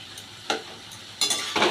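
Crushed fried lentil dumplings are stirred into cooked pumpkin in a pan, giving a few close scraping strokes and short bursts of soft sizzle over a quiet hiss, with no talk.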